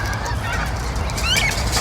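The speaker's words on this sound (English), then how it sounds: "You're such a good conditioned bird." A wild goose honks repeatedly at close range, loud nasal calls running through the whole stretch with a sharper squawk near the end.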